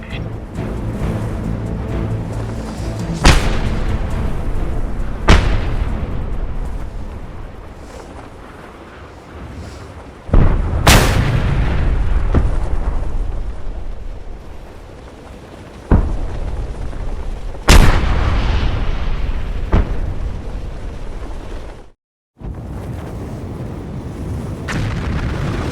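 Heavy guns boom in the Just Cause 2 video game, several loud blasts scattered across a constant roar of wind and engine rumble, each hit rolling off into the din.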